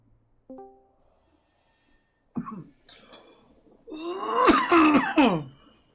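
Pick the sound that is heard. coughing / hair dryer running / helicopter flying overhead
coughing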